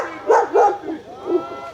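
Dog in a rural yard in Imereti, Georgia, giving a few quick close barks, two sharp ones followed by softer yips, mingled with a nearby voice.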